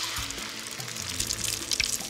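Beaten eggs poured into a pan coated with hot olive oil, giving a steady close sizzling hiss that runs unbroken throughout.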